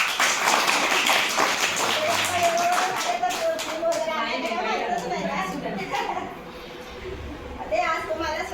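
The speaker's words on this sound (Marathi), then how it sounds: "स्वागत करू टाळ्या वाजवून" Schoolchildren clap together to welcome visiting guests at their school, a loud, dense burst of applause that fades over several seconds under chatter and children's voices.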